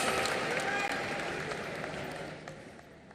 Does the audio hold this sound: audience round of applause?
yes